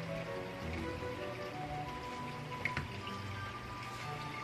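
Steady rain falling outside on a wet workday morning, a continuous patter and drip across the whole stretch with one brief louder drop near the middle, no voices.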